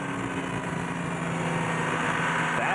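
A steady, low engine rumble from an Audi twin-turbo 5.5-liter all-aluminum diesel race car at Le Mans 2006 drones continuously with a faint high whine on top, sounding distant and unbroken throughout.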